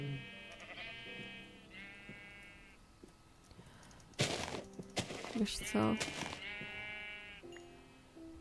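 Minecraft sheep bleat from the video game, a few harmonic calls with other blocky game sounds and thuds, while a player talks over and between them.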